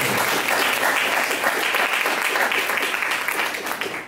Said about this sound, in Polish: No to wielkie brawa dla pana burmistrza